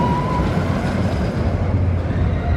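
Colossus, a ten-loop roller coaster at Thorpe Park, rolls along its track with a steady, loud rumble and clatter of the train over the rails, continuous and close, with no voices.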